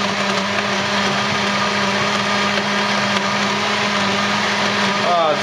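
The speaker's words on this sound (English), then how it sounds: "You don't know how to work a blender." An electric blender whirs steadily and loudly while mixing an ice cream milkshake, a constant dense motor drone throughout with no pauses.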